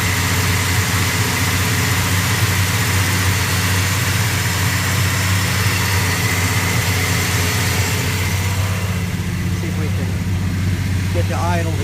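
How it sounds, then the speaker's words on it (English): A cold 1970 Dodge Coronet with a 340 six pack V8 idles steadily and a little high, a loud continuous low rumble running throughout without shaking, close to the engine. "You see the motor's nice and solid. It's not sitting there shaking and quivering,"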